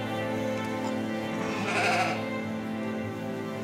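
A ewe bleats loudly and close by during lambing on a Yorkshire farm, one drawn-out wavering call rising in the middle of a steady background hum.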